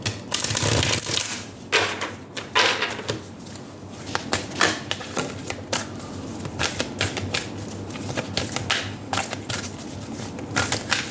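Oracle cards being shuffled in the hands, a continuous close rustling and flapping with repeated sharp riffles and slaps, fairly loud and without speech.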